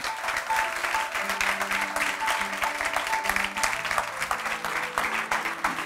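A festival audience at a film screening event applauds strongly for arriving guests, sustained clapping with music tones and faint voices underneath.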